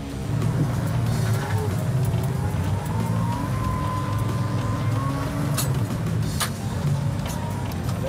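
SW4 armored carrier driving through a sandy section, a continuous loud engine drone with rumbling underneath, and faint whining tones rising and falling over it.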